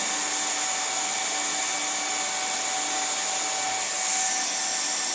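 A hot air plastic welder blows steadily during a split boot tack weld, a continuous even hiss and rush of air that stays loud and unbroken throughout, with no voices.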